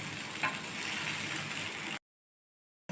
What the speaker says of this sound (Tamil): கொஞ்சம் நல்லா கிறிஸ்பியாக மொறுமொறுன்னு ஆகிற அளவுக்கு நீங்கள் வறுத்துட்டு அதுக்கப்புறம் நீங்கள் எடுத்துடலாம்